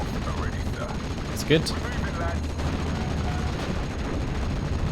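Tank guns and small arms fire in Steel Division: Normandy 44, a World War II game set in Normandy, as a steady stream of distant gunfire and shots under someone talking briefly.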